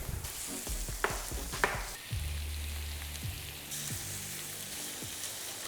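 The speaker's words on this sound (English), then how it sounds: "we're just gonna fry everything up" Sliced garlic and ginger sizzle in hot oil in a pan, a steady crackling hiss with a few clacks and knocks of utensils stirring, fairly quiet and with no talk.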